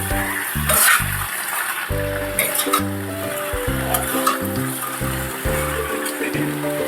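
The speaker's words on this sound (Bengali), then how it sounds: "খুব ভালো করে আমি নাড়াচ্ছি এবং গ্যাসের ফ্লেমটাকে একটু বাড়িয়ে দিয়েছি" Ridge gourd and prawns stirred in a pan over a raised gas flame give a steady, close sizzle with scraping stir strokes, running continuously beneath background music.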